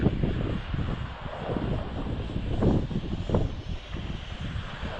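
Strong wind buffets a Snaptain SP500 drone in flight, producing steady broadband rumble and roar with gusty surges, loud and continuous, with no talking.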